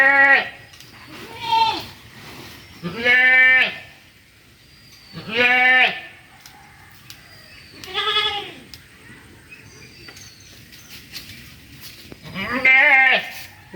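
A goat in a rural village bleats about six times, close and clear, with pauses of a second or two between calls and a quiet background.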